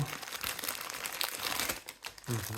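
Plastic packaging bags from an online order are unwrapped close up, giving a continuous crinkling and rustling that rises and falls over a few seconds with no talk.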